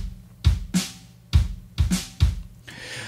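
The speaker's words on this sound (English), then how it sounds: "And the room mics sounds like this by themselves." Roomy drum hits from room microphones only, with kick and snare alternating in a steady beat. Five punchy strikes carry an ambient room ring, and a brief cymbal wash closes the pattern.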